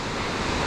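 A waterfall along the Alpe Adria cycle path between Tarvisio and Gemona gives off a steady, broad roar of falling water, close and continuous, with no voices.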